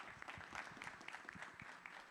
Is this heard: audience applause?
yes